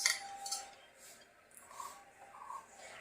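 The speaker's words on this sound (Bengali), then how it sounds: "একটা রূপোর বাটি, আর তার সঙ্গে রয়েছে একটা চামচ" Light, faint clinks of a silver spoon against a silver bowl, a few scattered taps in a quiet room.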